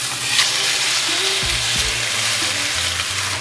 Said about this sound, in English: just sear away probably for 3 or 4 minutes on this side